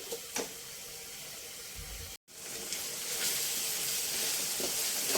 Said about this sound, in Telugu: ఈ పేస్ట్ కొంచెం బాగా వేగాలి